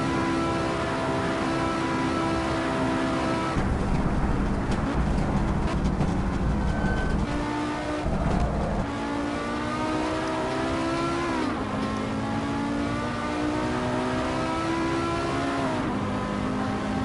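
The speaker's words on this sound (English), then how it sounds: "I hate being on the rev limiter like that." Race car engine in Assetto Corsa held against the rev limiter, a loud continuous buzzing drone with stuttering limiter bounces and shifting pitch throughout.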